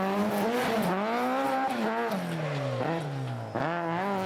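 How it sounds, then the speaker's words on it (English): A 2-litre Ford Escort rally car tears through a stage of a historic rally, its engine revving hard and climbing through gears with sharp drops between shifts, loud and close. "Desi Keenan was still thrilling the fans and on the ragged edge in his 2-litre Escort"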